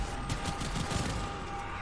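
Rapid, continuous gunfire in the Warframe game, steady rattling bursts of a weapon with heavy recoil, filling the whole moment at moderate loudness with no talking.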